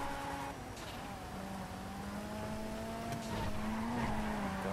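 An armored car in GTA V drives on with a steady engine drone, and drawn-out tire squeals rise and sweep over the motor, loud and continuous without talk.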